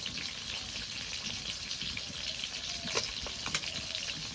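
Katla fish frying in a pan, giving a steady, close hiss of sizzling oil with a few sharper crackles and pops, with no talking.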